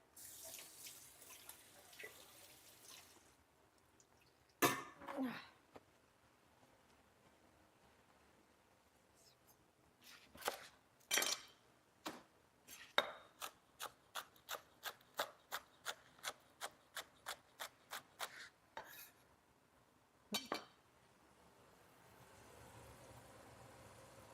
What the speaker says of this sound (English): Let's chop up some green onions on this, just because.